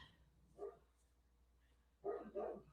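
Dogs bark at a goose somewhere out back, two short bursts of barking, faint and distant, with quiet gaps in between.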